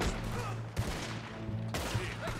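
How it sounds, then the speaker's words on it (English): Sustained gunfire rattles through a Red Dead Redemption 2 video game gunfight, dense bursts of shots overlapping with rumbling background noise and no clear pauses. "Whoa, big gunfight here."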